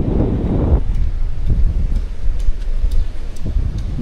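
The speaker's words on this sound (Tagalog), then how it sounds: "Lakas ng hangin niya." Strong wind buffets the microphone at Paniman Beach, Ternate, Cavite, on an overcast day, a steady loud roaring rush with gusts and no talk.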